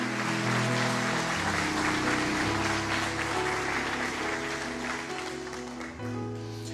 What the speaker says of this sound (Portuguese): Aplauda mais forte a Jesus.